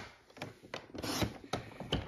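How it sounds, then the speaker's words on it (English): A paper trimmer slices through vanilla cardstock in a few rough, rasping strokes, each a short scraping burst, close and fairly quiet with brief pauses between passes. "let me get my trimmer here. And I want to cut a little bit of the vanilla off."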